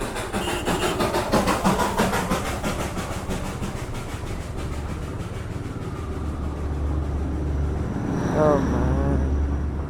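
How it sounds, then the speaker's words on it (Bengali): Darjeeling Himalayan toy train rolling past nearby with steady rhythmic rumble and clatter of wheels throughout, people talking over it. "The classic toy train."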